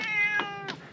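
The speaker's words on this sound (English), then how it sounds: "Kitty cats." Cats meowing close by, several harmonic cries in quick succession with breathy onsets, loud and unaccompanied by speech, while the household prepares to travel in a full-time RV with dogs waiting nearby.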